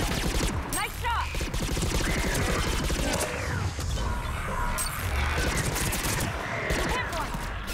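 Gunfire in Mass Effect 3, rapid bursts of shots and clattering impacts layered into a continuous firefight, loud and close, with voices partly heard amid the shooting.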